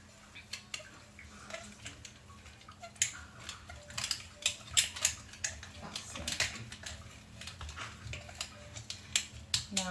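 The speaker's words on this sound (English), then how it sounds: "I'm going to continue with the X-Acto knife." An X-Acto knife cutting a drainage hole in a plant pot: close, irregular bursts of sharp scraping and clicking, some rapid and some spaced out, over a quiet background.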